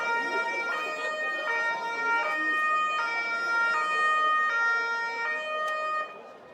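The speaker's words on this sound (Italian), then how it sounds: "Il silenzio dopo la rissa è stato squarciato dalle sirene della polizia e delle ambulanze del SUAM." Wailing police and ambulance sirens after a street brawl in a town square, rising and falling in a steady repeating cycle, fairly close and continuous before dropping off at the end.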